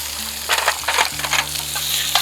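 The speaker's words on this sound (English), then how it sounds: "We're gonna kind of saute all this." Onion and beans sauté in a hot skillet alongside precooked sausage, giving a loud, steady sizzle with bursts of crackling and stirring scrapes throughout, no talking.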